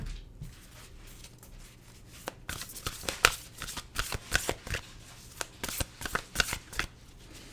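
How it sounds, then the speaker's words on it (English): Oracle cards being shuffled by hand, a string of crisp riffling bursts and rustles that start softly and build to repeated close snaps, with a brief spoken question early on. "Okay, let's go to an oracle card."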